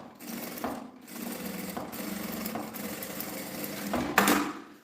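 A sewing machine stitches fabric lining for a functional toiletry bag, running in close, loud bursts with brief pauses between runs of stitching.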